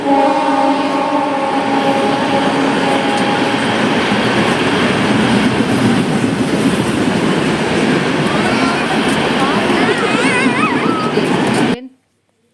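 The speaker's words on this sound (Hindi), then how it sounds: "अब एक सुपर फास्ट और आ रही है" A superfast express train roars through a station without stopping, loud and close, with steady rumbling and rhythmic wheel clatter for the whole pass. A squeal and a horn-like tone rise near the end before the sound cuts off abruptly.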